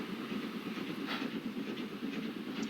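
Trains in the railway game Transport Fever 2 give a faint, steady rolling rumble with soft clickety-clack and hiss, low in level and without talk.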